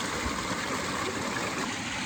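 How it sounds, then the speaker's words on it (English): A small waterfall where two streams meet outdoors, a constant, dense rush of falling water that stays loud and even throughout with no voices. "There's a cool little waterfall here at the confluence."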